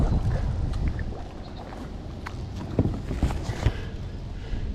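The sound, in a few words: wind blowing over a pond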